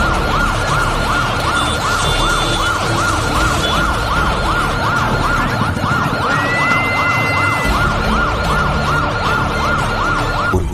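An ambulance siren wails continuously in a rapid, repeating up-and-down cycle, loud and close, with a faint whistle-like tone and engine rumble beneath, stuck in a New Year celebration crowd.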